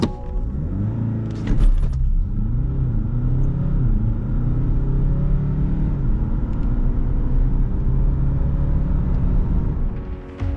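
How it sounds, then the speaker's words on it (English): A 2026 Audi A6 C9 TDI diesel sedan drives along with a steady, deep engine rumble and road noise heard from inside the cabin, a brief rise in revs early on, and no talking. "The TDI sounds like a diesel should sound"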